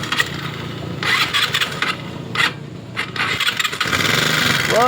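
A GY6 scooter engine runs close by with a rough, uneven rattling and knocking, rising and falling in bursts as it revs.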